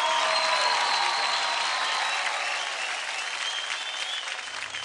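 Sustained studio audience applause on a televised dance competition show, steady and bright throughout, with crowd cheers and whistles mixed into the clapping and no speech.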